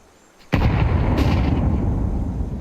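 A grenade detonates in a Counter-Strike match, one sudden loud blast followed by a long rumbling decay lasting a couple of seconds, with no voices over it.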